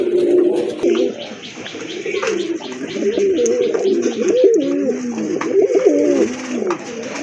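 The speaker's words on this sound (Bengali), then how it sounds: "আরেক জোড়া কবুতর দেখতে পাচ্ছেন" Several pigeons coo steadily at close range, their soft, rolling calls overlapping and continuing throughout with no pause.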